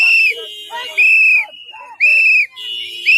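Three loud, piercing whistle blasts sound at a street protest in Minneapolis, evenly spaced, with crowd noise and voices in the gaps.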